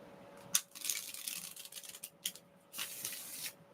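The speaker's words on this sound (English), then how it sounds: "going to shuffle the cards." A deck of cards being shuffled close up in a quiet room, with crisp riffling bursts and soft rustling flicks in short bouts.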